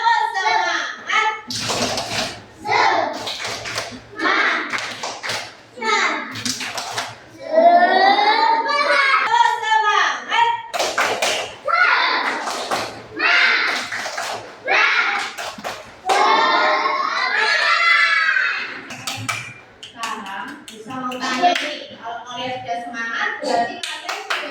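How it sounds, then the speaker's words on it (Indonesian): Children and their teacher in a first-grade classroom run through the 'tepuk semangat' clapping chant, bursts of rhythmic group clapping alternating with chanted voices, loud and close, with talk between the clap sequences. "Tepuk semangat."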